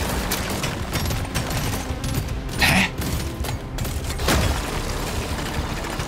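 Rapid automatic gunfire from the video game Deep Rock Galactic Survivor, a dense continuous fusillade with mechanical clatter running steadily throughout, with a couple of brighter bursts standing out near the middle.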